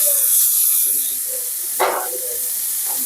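Tomatoes go into a pan of well-fried onions for a Maharashtrian-style chicken sukka curry, giving a loud hissing sizzle with a steamy burst partway through and a faint voice underneath.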